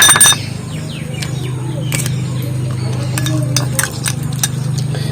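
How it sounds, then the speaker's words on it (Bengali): A hair dye mixture with Clinic Plus shampoo is stirred in a bowl, giving light scraping and repeated small clinking taps, with someone speaking over it. "এই ক্লিনিক প্লাস শ্যাম্পুটা এর মধ্যে ভালো করে ফাটিয়ে নেব"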